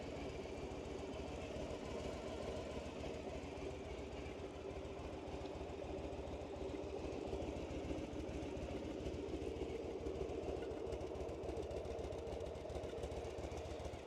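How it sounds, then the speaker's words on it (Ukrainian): A 1999 Yamaha Dragstar 1100 motorcycle engine idles smoothly and quietly, a steady low mechanical hum with a faint even pulse throughout. "Ви чуєте, як двигун працює? Він просто шепче."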